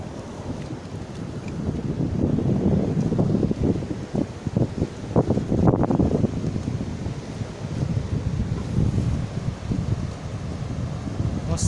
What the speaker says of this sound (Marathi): मस्त हवा सुटलेली आहे.